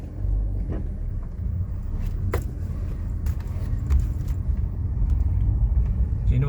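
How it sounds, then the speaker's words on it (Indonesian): Cars and motorbikes pass along a road by the medical faculty on a university campus during a new-student welcome event, giving a steady, continuous traffic rumble with no single vehicle standing out. "Sini banyak mobil, banyak juga motor ya."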